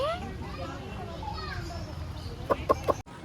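Dwarf chickens cluck and chirp in a busy yard at an exotic park in Tirupati, with a few sharp clucks near the end, under children's chatter and play.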